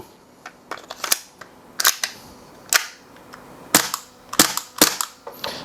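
A Tokyo Marui Glock 26 airsoft pistol fires about ten sharp, snappy shots up close, coming singly and in quick pairs at an uneven pace with short pauses between them.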